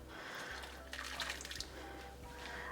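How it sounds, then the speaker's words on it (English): Boiling water pouring into a pot of lentils in a gentle, splashy stream, fairly quiet, with a low background hum and a few bubbling gurgles. "I'm just going to add a couple of 100 ml of boiling water to this"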